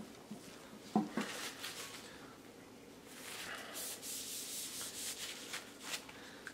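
Surface rust being wiped off a rusty beater gun by hand, a soft rubbing and scuffing of rag or palm against metal, faint and close, with a couple of sharper knocks early and longer rubbing strokes later.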